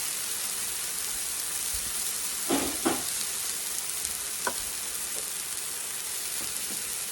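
Sweet potato sizzling in a pan with Sweet Baby Ray's sauce, a soft, constant hiss of frying broken by a few brief scrapes and clicks.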